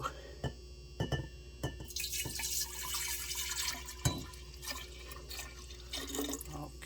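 Liquid is poured into a jar during home kombucha brewing, a close trickling and dripping stream with light clinks, moderately quiet throughout.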